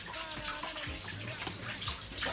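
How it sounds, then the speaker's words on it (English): Hands being washed under a running kitchen tap during chicken stew preparation, a steady broadband water rush with small splashes and drips, close and fairly loud, with no talking. "Wash the hands."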